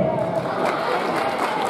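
Audience at a dance event at Bharat Mahotsav claps and cheers as a dancer from Raghav Dance Studio is welcomed, with steady dense crowd noise throughout.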